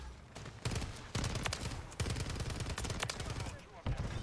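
STG-44 rifle in Modern Warfare 3 firing loud, close bursts of rapid shots with short pauses between them, with faint talk underneath.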